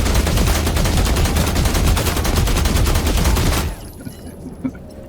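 Loud, rapid gunfire from The Last Caretaker rattles in a sustained automatic burst for several seconds, then cuts off abruptly, leaving faint ambient sound and a small clunk.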